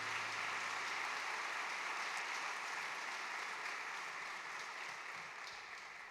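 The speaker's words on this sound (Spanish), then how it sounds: "Démosle un fuerte aplauso al Señor Jesús" Sustained applause from a church congregation, steady and broad throughout, tapering slightly toward the end with no voice over it.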